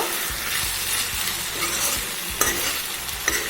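Elephant apple pickle is stirred in a frying pan, with a steady oily sizzle under repeated scraping strokes of a spatula and a few sharper clinks against the pan, all close by and without speech.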